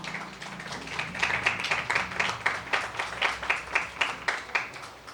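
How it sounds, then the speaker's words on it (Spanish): A church congregation claps during an evangelical sermon, many hands at once in a steady rhythmic beat that swells and stays loud and close across the room. "Denle un fuerte aplauso al Señor."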